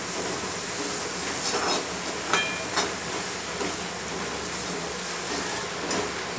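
Spices sauté in a hot pan for a rustic cluster-bean (gavar) bhaji, a constant dense hiss with faint crackles rising now and then, close and fairly loud, with no voices.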